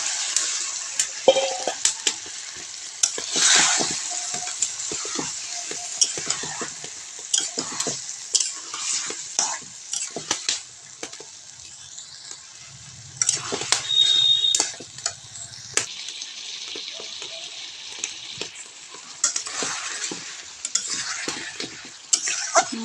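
Washed meat goes into a cooked-down spice paste and is fried while being stirred, with a steady close sizzle broken by frequent scraping and clattering of the utensil against the pan.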